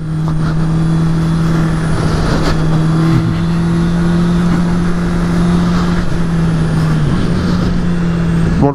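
A 2019 Honda CB650R four-cylinder motorcycle engine holds a steady, loud, high-revving drone for several seconds, with a slight dip in pitch near the end.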